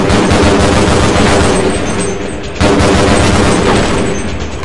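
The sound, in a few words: gunfire in video game Half-Life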